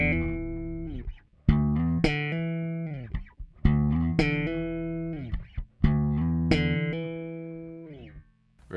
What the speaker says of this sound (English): you can do maybe a slide on one octave and then move it to a hammer on with the next octave